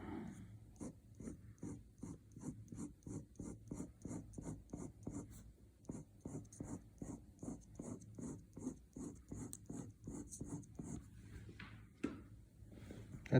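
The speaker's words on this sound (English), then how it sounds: "I'd rather just, you know, smoothly just make a mark, lightly, barely touching the paper" Ink pen lightly stroking paper in a fast regular rhythm of soft scratchy marks, about two strokes per second, close and quiet, with no talking.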